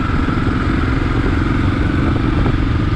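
A 2022 Kawasaki KLR 650 single-cylinder engine pulls steadily in fifth gear while riding, a loud continuous thrumming drone mixed with wind rush, no talking.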